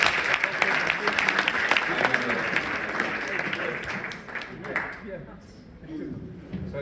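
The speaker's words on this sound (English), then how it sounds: "Please make a huge applause for her." Audience applause for a woman taking the stage as a speaker, dense and sustained clapping that fills most of the stretch before thinning and tapering toward the end.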